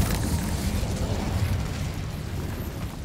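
An Incendio fire spell goes off in a video game as a loud, sustained roaring blast that fills the whole clip and eases slightly toward the end, with no talking.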